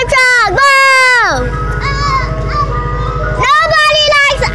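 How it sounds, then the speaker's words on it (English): An ice cream truck's jingle plays loud and close, its tinny melody running throughout while children's voices rise over it. "You stupid ice cream truck."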